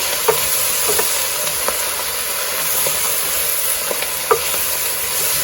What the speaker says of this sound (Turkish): güzelce karıştıralım